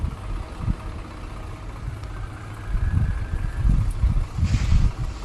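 A low, uneven tractor engine rumble chugs on with a few heavier pulses, mixed with some wind noise and no voices.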